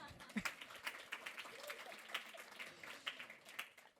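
Audience at a university Three Minute Thesis competition grand final clapping, moderately loud and somewhat uneven, with individual claps standing out over a short burst of applause.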